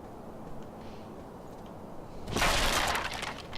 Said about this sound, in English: smashing all those wooden bits